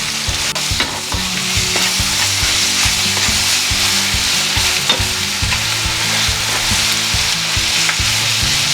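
Potatoes, beets and Swiss chard fry loudly in a pan, a dense continuous sizzle with repeated scraping stir strokes and a low humming undertone, close and without speech.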